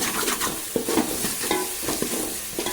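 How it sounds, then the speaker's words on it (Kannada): Cluster fig (atti kai) stir-fry being stirred in a pan just after salt goes in, with a steady frying sizzle and repeated scraping strokes of the spoon, close and fairly loud, no talking. "ರುಚಿಗೆ ತಕ್ಕಷ್ಟು ಉಪ್ಪು ಹಾಕಿ ಇವಾಗ ಮಿಕ್ಸ್ಕೊಳ್ಳೋಣ"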